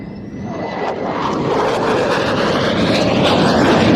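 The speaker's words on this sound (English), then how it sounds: "we expect to see the aircraft setting up once again at fairly slow speed for a roll, this time with the undercarriage extended" An aircraft flying a slow pass at an airshow in Leszno with its undercarriage extended, a loud engine roar building steadily as it draws close, its pitch sliding downward, with no voices.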